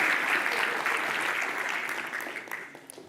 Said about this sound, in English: Let's give our finalists a round of applause.